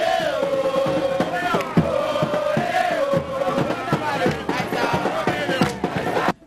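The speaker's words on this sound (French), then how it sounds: "Cette marche pacifique qui a drainé une foule compacte des membres des mouvements citoyens" A compact crowd of citizen-movement members on a peaceful march in Lubumbashi, a steady loud wash of many voices with chanting and shouts continuing throughout, ending abruptly.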